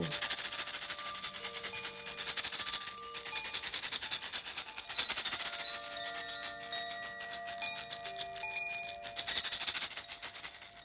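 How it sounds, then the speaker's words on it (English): A rattle shaken during a guided meditation gives a steady, dry, hissing swish that swells and eases in waves. Soft sustained musical tones sit beneath it, and no one speaks. "Now as you hear the rattle begin to come in,"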